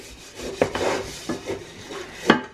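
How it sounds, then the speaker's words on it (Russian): An oven lid is scrubbed with baking soda, giving soft rasping rubs with a few sharper scrapes. The sound is close and fairly quiet, with no talk. "даже также содой очень хорошо чистить крышку от духовки."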